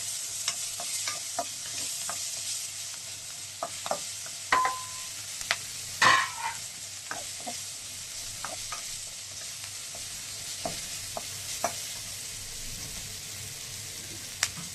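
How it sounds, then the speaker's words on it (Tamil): Onions sizzle steadily in hot oil for a masala chicken fry, with a broad frying hiss throughout and scattered spoon clinks and scrapes against the pan, one louder knock near the middle. "மிச்சம் வச்ச வெங்காயத்தை வந்து இப்போ சேர்த்துக்க போகிறோம்"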